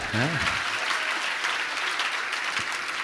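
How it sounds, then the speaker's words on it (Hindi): Audience applause at a Hindi spiritual Q&A discourse, a steady wash of clapping throughout, with a voice speaking over it at the start. "एक बार तालियां हो जाए।"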